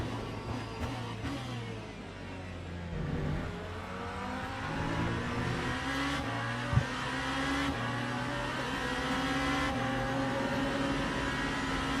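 Loud, sustained race car engine of a BMW in the Le Mans Ultimate racing game, droning steadily with rising and falling revs close up through the whole stretch.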